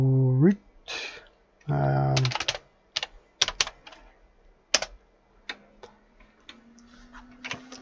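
Quick bursts of clicking on a computer keyboard, with irregular clusters of keystrokes and a few louder taps, logging into a VMware ESXi hypervisor; a voice speaks briefly before the typing begins.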